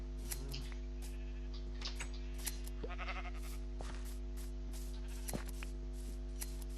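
A few scattered bleats from sheep on a Minecraft farm during shearing, with sharp clicks and a steady low hum underneath; no talking.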